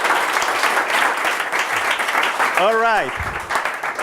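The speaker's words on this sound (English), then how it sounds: "So you're clapping hands because of what Yossi said, right?" An audience at a creativity talk claps hands in sustained, dense applause throughout. A single voice speaks briefly near the end over the clapping.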